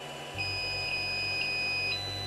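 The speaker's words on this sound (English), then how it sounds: "it should beep at me telling me the heating is done" A Creality CR-10 3D printer sounds a single steady electronic beep when heating finishes, a sustained high tone lasting about a second and a half over low workshop hum, with no talking.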